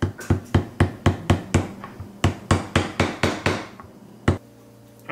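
Sharp metal hammer taps during a seal and gasket rebuild of a Briggs & Stratton Vanguard engine, about fifteen close, evenly spaced strikes in a steady rhythm, then a pause and one final tap, with no talking.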